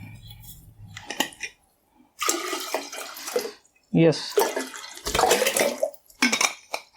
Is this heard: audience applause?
no